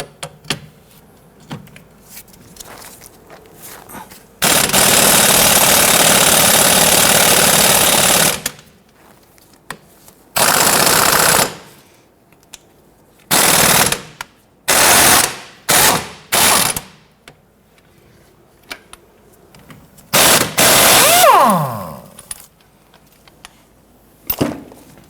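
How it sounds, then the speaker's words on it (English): Ratchet with a 14mm socket loosening the sway bar end link nut on a 1992-1996 Toyota Camry during front strut replacement: one long steady four-second run of close ratcheting, then several shorter bursts separated by quiet pauses, with no talking. "Using a 14mm socket, want to loosen and remove the nut for the sway bar end link."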